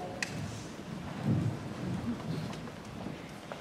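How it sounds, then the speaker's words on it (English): A thunderstorm sound effect plays during a high school operetta stage play: steady rain hiss with a low rolling rumble of thunder swelling in the middle, continuous and moderately loud with no talking. "It's going to rain."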